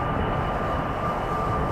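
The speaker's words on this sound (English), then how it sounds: "The second Embraer is also ready at the threshold to go." A Embraer passenger jet departing from runway 36L at Amsterdam Schiphol, bound for Lyon, gives a steady, continuous jet engine roar. The roar is sustained and fairly loud throughout, with no talking.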